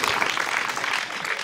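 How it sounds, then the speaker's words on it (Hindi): An audience at a comedy poetry show applauds loudly, giving a dense, steady wash of clapping throughout. "तो जोरदार ताली बजाओ सर"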